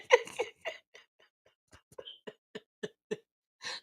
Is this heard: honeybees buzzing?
no